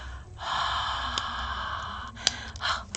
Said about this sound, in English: you put hot breath